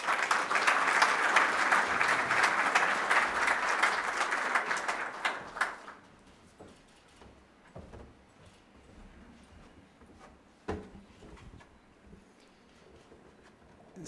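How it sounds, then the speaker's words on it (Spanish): Loud sustained applause from an audience at a formal solemn ceremony, dense clapping for several seconds that stops abruptly, leaving a quiet room with faint shuffles and a single knock. "Le brindamos un fuerte aplauso."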